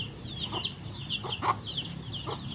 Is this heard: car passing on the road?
no